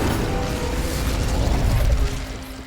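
A broad roaring burst from the Incendio fire spell in Hogwarts Legacy, loud and dense, holding for about two seconds before it begins to fade.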